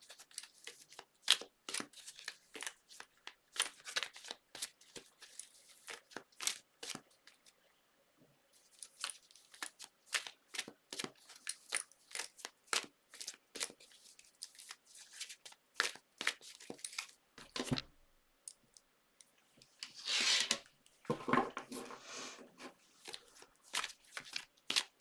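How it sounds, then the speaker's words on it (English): Tarot cards shuffled by hand at close range, a long run of crisp riffling and rustling bursts with brief pauses between handfuls and no talking. "And start shuffling the cards,"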